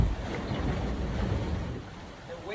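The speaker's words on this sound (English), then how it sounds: "It's the waves rolling underneath the boat." Waves roll and wash beneath a small sailboat under way at about seven knots in a moderate wind, giving a steady, loud rush of water and wind noise that fades slightly toward the end.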